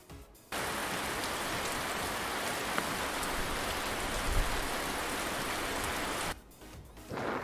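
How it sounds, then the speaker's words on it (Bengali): Steady rain pouring down, a dense even hiss that starts abruptly, holds for about six seconds and then cuts off, heard alone without voices. "ছাতা মাথায় বৃষ্টি পড়ে।"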